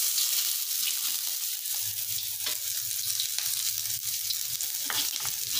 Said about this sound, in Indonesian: Lalu kita tikam bawang merah dan bawang putih.